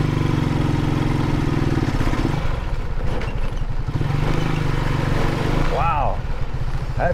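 A motorcycle trike with a sidecar wheel chugs along busy Philippine streets, its engine pulsing steadily and then shifting pitch as gears change. A short horn-like whine rises near the end, with a voice talking over parts of it.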